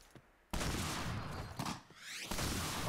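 Gunfire in the shooting game Point Blank: a sustained burst of rapid shots begins abruptly, fills the mix loudly, dips briefly and resumes, with no voices over it.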